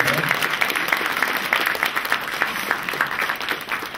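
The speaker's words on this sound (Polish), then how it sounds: "Duże brawa dla pani Danusi, serdecznie dziękuję." A crowd applauds steadily for several seconds, a dense wash of clapping that holds at an even level throughout.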